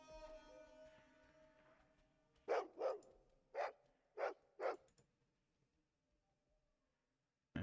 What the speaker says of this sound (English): I also hear dog.